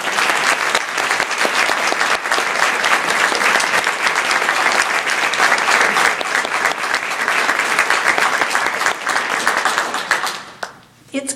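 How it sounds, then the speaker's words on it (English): A large crowd applauds steadily and loudly for candidates at a candidates' event for about ten seconds before the clapping tapers off sharply at the end. "could we have one more round of applause for our candidates"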